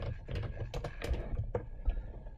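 A search being typed on a computer keyboard, irregular soft key clicks and taps close by in a quiet room, with no voices.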